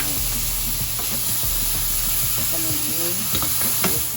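Pork fries in its own rendered fat in a pan, a loud steady hiss and crackle with scattered pops and occasional utensil clinks close by, holding constant throughout with no talk.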